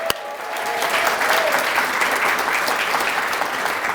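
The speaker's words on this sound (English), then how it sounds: "one more ginormous round of applause for those amazing residents" An audience at a psychiatry and behavioral sciences graduation and awards ceremony applauds the graduating residents, a loud, dense, sustained burst of clapping that fills the hall from start to finish.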